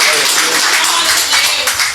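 A church congregation applauding, dense steady clapping from many hands that fills the space evenly at close range.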